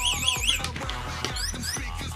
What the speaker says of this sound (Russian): Она, по идее, должна останавливать сигнализацию, если вот она орет